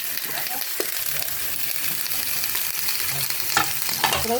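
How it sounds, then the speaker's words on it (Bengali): Mixed vegetables, including papaya, being stirred and half-fried in a hot pan, with a steady close sizzle and occasional scraping stirs throughout. "ভালো করে একটু নেড়ে চেড়ে নেব, হাফ ভাজার মতো করে নেব সবজিগুলো"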